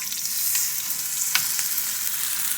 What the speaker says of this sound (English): Yeah, that's sizzling.